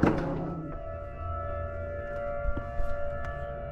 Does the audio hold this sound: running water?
no